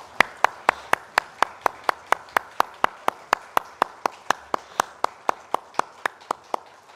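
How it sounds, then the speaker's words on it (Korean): A church congregation claps in steady unison during a Sunday worship service, about thirty sharp, evenly spaced claps in quick rhythm, with no talking over them. "하나님께 영광의 박수 올려드리겠습니다."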